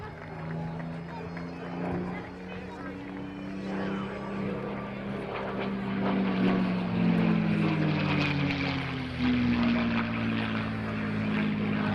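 A P-51 Mustang propeller fighter flies at a D-Day 80 airshow, its engine droning in the distance and swelling louder and shifting in pitch as it passes, while a person talks over it throughout.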